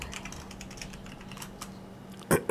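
Password being typed on a computer keyboard during an Alpine Linux install, a short run of light, quick keystrokes at close range, ending in a couple of louder, firmer key presses.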